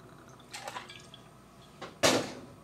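Gin measured at 1.5 ounces is poured into a rocks glass filled to the top with ice, giving soft, brief splashes and a sharper liquid-on-ice clatter near the end in a quiet room.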